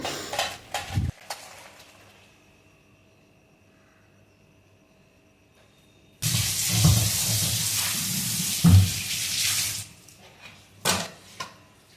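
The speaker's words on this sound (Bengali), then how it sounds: "কড়াইটাকে একটু মেজে নিচ্ছি" A kadai (wok) gets scrubbed clean in a home kitchen after cooking dal: bursts of harsh scraping and rubbing, a few sharp metallic knocks, then a long stretch of vigorous scouring, loud and close, with quiet gaps between.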